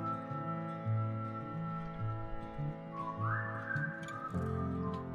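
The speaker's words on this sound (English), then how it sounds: "I do enjoy hearing whistling" A simple whistled melody carries the background music of a Wild West and wizards open-world RPG, steady and moderately loud for about five seconds, with no one talking over it.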